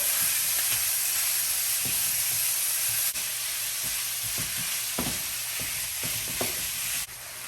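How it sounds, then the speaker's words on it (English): Ground lamb frying in its own rendered fat, a steady close sizzle and hiss running throughout, with occasional soft clicks and scrapes of a utensil stirring and breaking up the meat. "I'm just going to make the lamb cook in its own fat"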